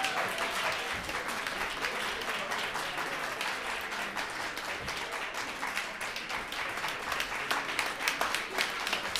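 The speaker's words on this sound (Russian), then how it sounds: "Хлопают, выходим." Dense audience applause fills an opera concert hall, many hands clapping steadily and evenly throughout, loud and close, without noticeable voices on top.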